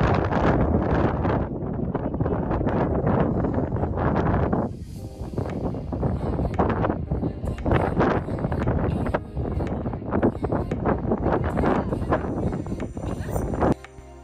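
Strong wind on the Staffelberg, a mountain in Germany, roars and buffets the microphone at an exposed photo spot. The gusting is loud, continuous and close, with brief dips in force.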